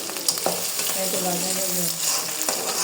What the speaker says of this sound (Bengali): তো প্রথমে তেল দেওয়া হলো, তারপরে এই যে পেঁয়াজ দেওয়া হলো।